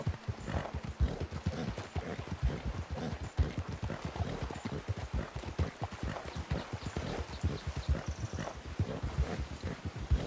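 Steady horse hoofbeats clip-clop in a brisk, even rhythm in the video game Red Dead Redemption 2, moderately close and unbroken, with soft ambient noise around them.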